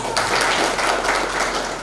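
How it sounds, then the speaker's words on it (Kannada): Applause for a gold medal winner at a reunion gathering, a short burst of steady clapping from an audience with faint voices underneath. "ಅವ್ರಿಗೂ ಕೂಡ ಒಂದು ಚಪ್ಪಾಳೆ ಬರಲಿ ಅಂತ"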